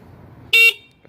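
Horn on a Kanis Powersports 72-volt electric bike sounding one short, loud, bright honk close by, then quiet.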